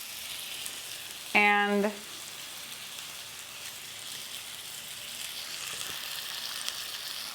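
A steak sears in a hot pan with compound butter, rosemary sprigs and garlic, giving a steady, close sizzle throughout. A single brief spoken word cuts in early.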